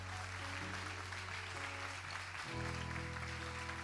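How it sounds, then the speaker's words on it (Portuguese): Church congregation applauding teachers during a service, a steady wash of clapping that runs throughout over a low sustained organ or keyboard tone that shifts partway through. "Você pode dar um aplauso para eles"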